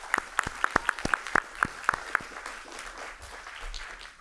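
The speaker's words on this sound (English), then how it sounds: "So I'd like to ask that we give them another round of applause." Scattered claps ring out from a board meeting audience for students, a dozen or so distinct sharp hand claps in an uneven rhythm, then fading into quiet room murmur.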